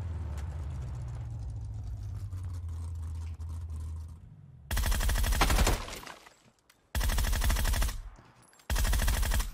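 Bursts of automatic Groza rifle fire in PUBG, a 1-man squad match: loud, dense rapid volleys in three blocks after a quieter stretch of distant game ambience and engine rumble.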